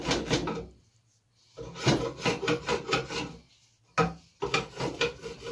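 A spokeshave scrapes along a wooden axe handle in short, raspy strokes, close up, with a brief pause between passes and no talk.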